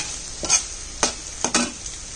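Tuna spaghetti and vegetables are mixed in a sizzling pan: three or four distinct scraping stir strokes stand out over a low, constant frying hiss, close up with no voices.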